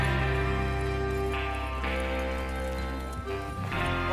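Horses from the Red Dead Redemption 2 gang clop along steadily under a dense orchestral score, their hoofbeats blended into the music as the riders move out together.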